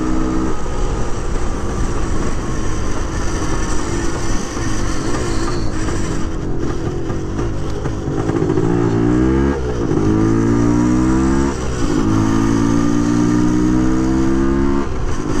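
A 1978 Yamaha DT400 big-bore two-stroke motorcycle engine revs steadily, loud and close throughout, with rising and falling pitch sweeps as the throttle is blipped repeatedly, no talk over it.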